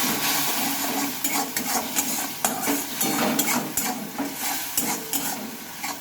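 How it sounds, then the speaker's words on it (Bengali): Spice masala with potato and soybean being stirred in a pan, a loud continuous sizzle broken by rapid scraping and clattering strokes of a spoon against the metal, close up. "দিয়ে আমি মশলাটা ভালোভাবে নেড়ে ফেলে নেব"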